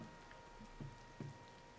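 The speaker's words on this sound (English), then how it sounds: "It's raining on this border over there." Steady rain falls in Tears of the Kingdom, a soft continuous hiss with two brief low thuds near the middle, faint and without any talk.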